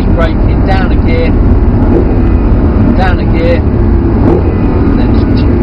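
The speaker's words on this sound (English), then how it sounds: "up the gear, and then onto the brake, nice and gently, keep braking, down a gear" Audi R8 engine on track under braking and a downshift, a loud steady drone with brief rises in pitch, overlaid by an instructor's voice talking throughout.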